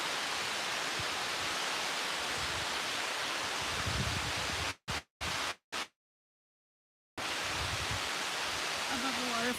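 Steady rushing roar of a waterfall, broadband and continuous, close and loud, with brief dropouts and a short silent gap midway before the roar returns; a person walking nearby talks faintly under it.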